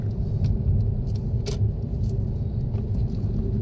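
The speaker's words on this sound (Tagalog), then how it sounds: "Masyado palang na traffic dito." Steady road traffic in a jam, a continuous low rumble of idling and creeping cars heard from inside a vehicle, with a few brief higher clicks and no talk.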